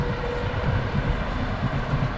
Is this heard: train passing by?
yes